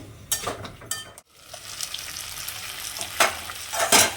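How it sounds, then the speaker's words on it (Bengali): Masala sautés in a pan that is partly covered between stirs, giving a steady frying hiss broken by a brief dip and a few louder scraping bursts nearby, with no voices. "আবার একটুখানি ঢাকা দিয়ে দিয়ে কষতে থাকবো"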